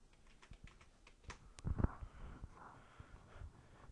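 Keystrokes on a computer keyboard as a search is typed, a loose run of light clicks with a slightly louder burst midway, close and alone with no talk.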